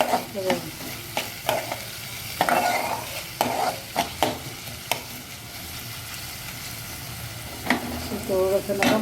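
Tomato being stirred and fried in a pan for a Marathi-style vegetable curry, with steady sizzling and repeated scraping stirs of the spoon against the pan, close and moderately loud.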